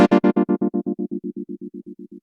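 Strymon Mobius square-wave tremolo on a sustained guitar chord, chopped into hard on-off pulses about eight per second, bright at first and fading to a duller, quieter throb as the note decays.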